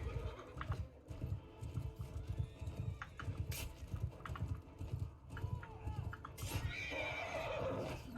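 Horses in the Mount & Blade video game neigh and thud with galloping hooves amid a steady battle din, with voice-like sounds mixed in throughout.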